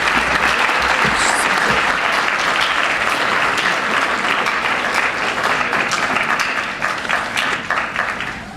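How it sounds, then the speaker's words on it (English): Sustained applause from an audience at a school district board of education meeting after art show award recipients are announced, steady and fairly loud throughout before easing slightly near the end. "Now you can clap."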